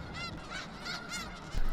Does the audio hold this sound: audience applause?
no